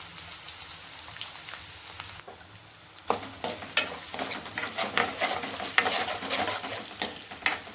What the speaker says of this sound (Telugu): ఆ పేస్ట్కి మెల్ట్ అయిపోయేటట్టుగా, దానిలో కలిసిపోయేటట్టుగా, అందుకని వేయించుతున్నా.